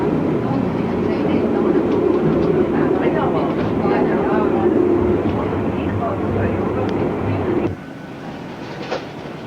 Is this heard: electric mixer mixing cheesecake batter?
no